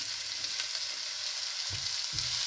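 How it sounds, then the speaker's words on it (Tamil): Chopped onions sautéing in a pan, a steady close sizzle broken by a couple of soft stirring scrapes near the end, with no talking. "வெங்காயம் வதங்கிட்டு தக்காளி ஆட் பண்ணிக்கலாம்"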